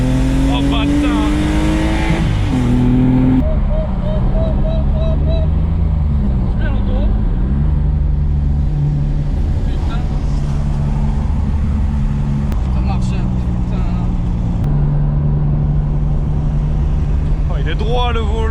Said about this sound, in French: la BM roule très bien